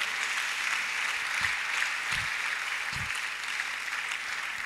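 A church congregation gathered for a solemn convocation applauds together in a dense, steady wash of clapping that continues throughout, with a few low thumps underneath.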